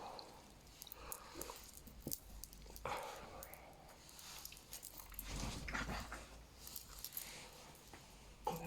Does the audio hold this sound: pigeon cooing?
no